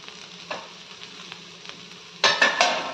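A spoon stirs a crunchy chickpea snack in a pan after coriander is added, soft scraping strokes at close range, ending in three louder, sharper scrapes.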